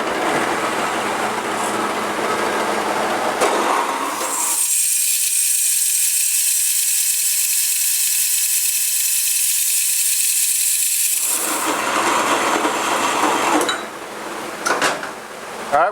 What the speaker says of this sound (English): now we're over here at the bandsaw. We're going to be cutting the base plates for our casters